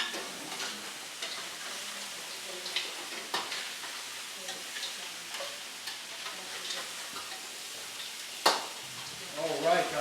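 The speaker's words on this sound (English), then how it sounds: "as soon as you hear that sizzle, that's great because now the crab shell, the butter, the oil, everything's coming together" Crab shell sizzling in butter and oil while being stirred, a steady close sizzle broken by scraping clicks and taps from the stirring, with a brief voice underneath near the end.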